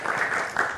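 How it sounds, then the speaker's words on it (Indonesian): Brief applause from an audience at an Indonesian fiscal policy discussion, a short, moderately faint wash of clapping. "Kita berikan tepuk tangan."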